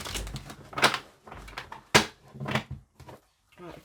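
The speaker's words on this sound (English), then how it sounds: "Let me give it one more shuffle." Tarot cards are shuffled by hand in a few quick papery riffling bursts separated by short pauses, close and fairly loud.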